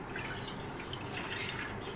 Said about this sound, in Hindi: देगची के अंदर सबसे पहले हम 1 कप पानी डालेंगे